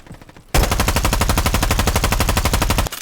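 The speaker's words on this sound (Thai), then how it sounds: "เออให้โอกาสผมยิงบ้างเดี๋วแบบยิงเยอะๆหน่อย" Loud automatic gunfire in a Roblox shooting game rattles out as one rapid, sustained burst of evenly spaced shots lasting over two seconds before cutting off.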